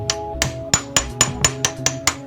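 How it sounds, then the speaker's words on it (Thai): A hammer taps metal about nine times in an even rhythm, gently seating a fuel injector seal; each strike short and ringing, close by and moderately loud. "จะค่อยๆเอาค้อนตุ้ยๆลงไปนะครับ ไม่ต้องแรงมากนะครับ"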